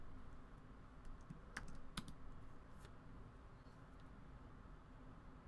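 Typing on a Mac computer keyboard, a few soft clicks and two sharper key presses close by against quiet background hiss.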